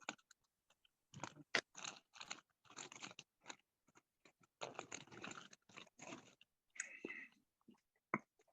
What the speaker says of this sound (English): whoever chewed them chips, them shit sound mad good